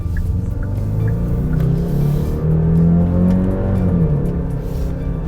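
A 2022 Genesis GV70 2.5T accelerates in sport mode, heard from inside the cabin as a loud, steady engine drone that rises in pitch over road rumble.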